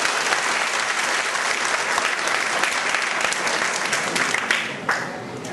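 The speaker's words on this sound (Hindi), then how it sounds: "जोर से तालियां आपके लिए।" Students from a Naxal-hit area applaud together in a hall, producing dense, sustained, loud clapping that thins slightly at the end.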